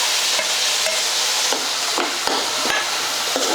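Chopped tomatoes and onions with curry leaves fry in a pan, a loud close sizzle broken by rhythmic scraping and knocking of a spatula every half second or so, no speech.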